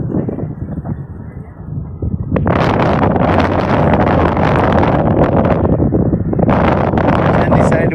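Strong wind on a hilltop on Bonaire buffets the microphone with a loud, continuous roar that grows even harsher after a couple of seconds and keeps gusting.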